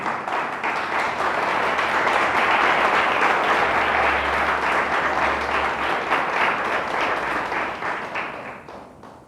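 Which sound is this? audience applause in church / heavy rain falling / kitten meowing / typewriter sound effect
audience applause in church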